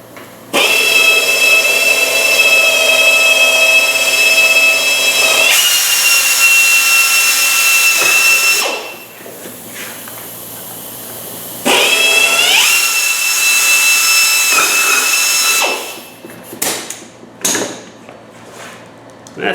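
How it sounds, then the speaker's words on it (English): A power drill bores through a plastic headlight lens in long, loud, whining bursts with a strained motor pitch, with pauses and some handling clatter between runs. "now I just use the holes I've drilled and go right through the lens"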